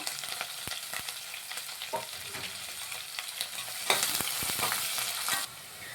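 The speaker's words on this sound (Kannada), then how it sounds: "ಆನಿಯನ್ ಚೆನ್ನಾಗಿ ಫ್ರೈ ಆಗಿದೆ ನೋಡಿ" Green chillies and finely chopped onion fry in a pan for chicken biryani: a close, continuous sizzle broken by repeated stirring scrapes, louder and brighter toward the end.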